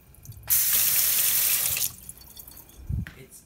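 Tap water runs loudly into a kitchen sink for about a second and a half, then stops, followed by quieter clatter and a brief low thump.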